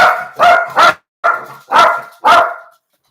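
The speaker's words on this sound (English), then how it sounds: "Are you barking at me?" A dog barks six times in quick, uneven bursts, loud and close, with brief silences between barks and no talking.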